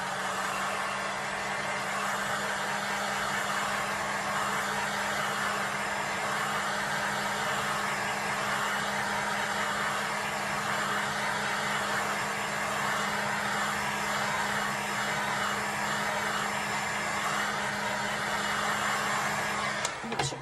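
A heat tool blows a steady, loud whirring hum while warming a silicone doll head, holding unchanged for about twenty seconds with no voices.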